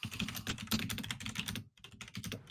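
Rapid typing on a computer keyboard, a close and fairly quiet run of clicking keystrokes with a brief pause before more taps.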